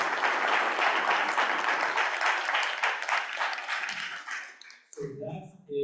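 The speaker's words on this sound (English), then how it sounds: "let's have another round of applause for everybody" A room at an annual meeting bursts into a dense round of applause, many hands clapping together for about four seconds before it fades into scattered claps and a few voices.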